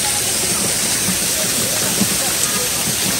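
An artificial waterfall in Doña Vicenta Park, Davao City, gives a continuous dense rushing hiss of falling water nearby, with people's voices faintly underneath.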